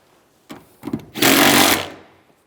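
Rear seat bolts are tightened on a 2007-2013 Chevrolet Silverado, with two brief clicks and then a loud half-second mechanical whir from a power tool, close by, that fades quickly.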